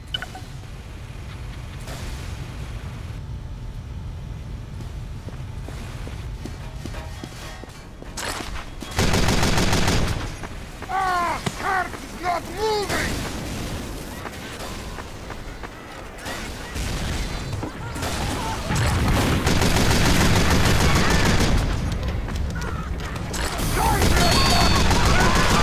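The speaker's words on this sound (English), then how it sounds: "Like Michael Bay over here with all the explosions" Repeated bursts of gunfire and heavy booming blasts crash through a long stretch of video game action, loud and dense, with brief quieter gaps between volleys.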